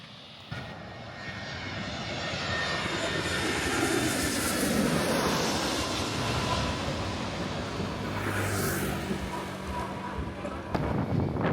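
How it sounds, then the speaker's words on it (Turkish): A jet airplane roars steadily as it takes off from Skiathos airport, the engine noise building and holding loud and broad for several seconds, with no talking. "Büyük ihtimalle şimdi uçak kalkacak."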